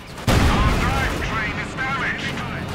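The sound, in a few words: Sturmgeschütz firing on a Panzer in Company of Heroes 2 (video game)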